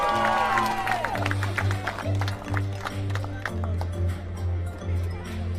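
Crowd at a recurve men's team archery gold match in Shanghai applauding and cheering for Chinese Taipei archers, a steady, fairly distant wash of clapping and voices with music and talk underneath.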